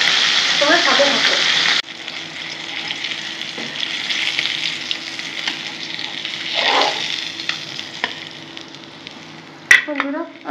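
Fish fries in hot oil with a constant crackling sizzle, loud at first and then settling lower, with occasional stirring clatter and someone speaking over it at times.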